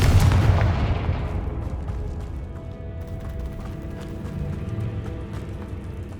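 A Confringo fire-blast spell goes off in the Hogwarts Legacy video game, starting with a loud booming burst that fades into a rumbling, crackling tail with scattered impacts behind it.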